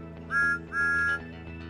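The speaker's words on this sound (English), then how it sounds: "Thomas is also known for his whistle." Two toy whistle toots from a Thomas the Tank Engine train. The first is short and the second is longer, both shrill and close, with a short gap between them.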